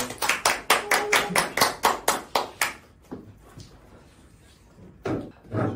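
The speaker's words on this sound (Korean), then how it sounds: "박수로 맞이해주세요" An audience at a book talk claps in a quick, regular rhythm to welcome the author, about a dozen crisp, evenly spaced claps that stop abruptly, followed by a few scattered claps and quiet room noise.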